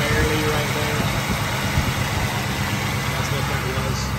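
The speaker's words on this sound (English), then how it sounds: "Engine sounds great." A 1969 Ford Mustang Mach 1 with an original R-code 428 Cobra Jet V8 runs at a steady idle, a loud, close, continuous rumble with faint vibration that holds even throughout.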